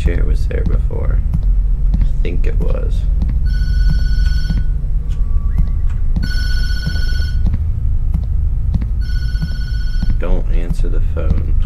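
A telephone rings in the video game Tattletale, three separate bursts of bright, electronic bell trills spread over several seconds, over a steady low hum with a person talking quietly between rings.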